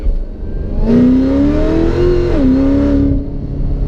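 A supercharged car engine revs up and holds with a steady high-pitched blower whine riding on top, loud and close, then settles back toward idle.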